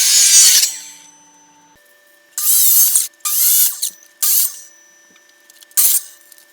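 A power tool cuts wood for a pooja mandir in several loud bursts of whining, rasping noise. Short silences fall between the cuts.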